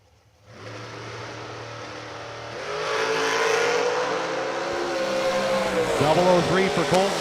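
A nitrous-equipped drag race car makes a pass at a drag strip event, its engine roaring louder as it launches, then a high whine that bends in pitch as it races away. An announcer talks over the noise.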